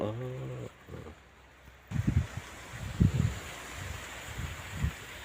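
Gusty wind buffets the microphone in low rumbling bursts after a brief hum at the start, fairly close and uneven.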